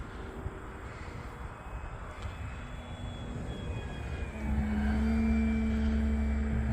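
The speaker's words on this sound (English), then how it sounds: "About half throttle as I come downwind, circling, turning back into the wind." A Pitts airplane at half throttle in flight, circling downwind, gives a steady propeller engine drone that grows louder and deeper partway through, heard from inside the cockpit with rushing wind and no talk.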